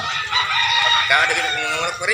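A fighting rooster crows loudly and close by, one long strained call, with some clucking from other fowl around it.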